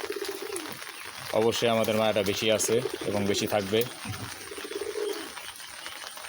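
Rooftop pigeons coo on a rainy day with low, throaty calls that run under someone speaking Bengali close to the mic.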